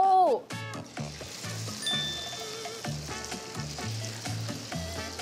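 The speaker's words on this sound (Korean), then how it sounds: "튀김을 하면은 초벌 그다음에 마지막에 한 번 더 튀겨서 하면은 이제 겉면이 더 빨락해집니다." Pork pieces for pomegranate jelly sweet and sour pork are deep-fried in hot oil with a steady, close sizzle and crackle. Light clinks of utensils come through at the start and mid-clip.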